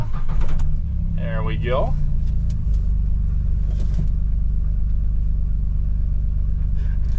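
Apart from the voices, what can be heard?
John Deere Gator utility vehicle engine running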